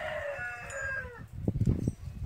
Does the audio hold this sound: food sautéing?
no